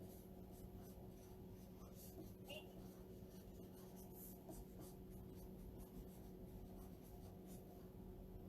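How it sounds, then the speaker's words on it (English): Pen or marker scratching across the back of a Chalk Couture transfer sheet laid on a gray V-neck T-shirt, faint and steady soft strokes against a low room hum. "I'm going to write on the back of my transfer the name"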